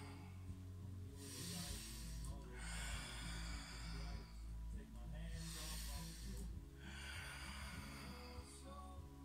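Slow, deep breathing during a yoga stretch: four long, airy breaths in and out, close and soft, with a quiet voice faintly underneath.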